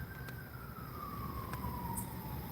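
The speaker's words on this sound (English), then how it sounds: "You hear those sirens?" An emergency siren wails from a distance as one slowly falling tone over steady street background, fairly faint and continuous, with nobody speaking.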